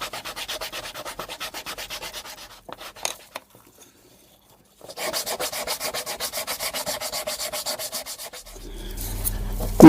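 A small wooden toy truck being sanded by hand to take off sharp edges, with steady rhythmic rubbing strokes in two long bursts separated by a quiet pause and a few scrapes, close and fairly loud.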